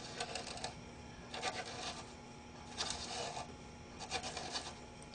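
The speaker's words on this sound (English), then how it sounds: "Insert your tapered reamer into the hole" A tapered reamer turns inside a violin peg hole, scraping wood in four short rasping bursts at a steady pace, quiet and close with nothing else in between.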